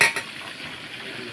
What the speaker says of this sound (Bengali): এই যে শুরু করে দিলাম মুরগি ভাজা